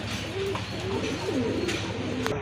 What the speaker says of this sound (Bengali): এখানে কিন্তু এক জোড়া গিরিবাস কবুতর আছে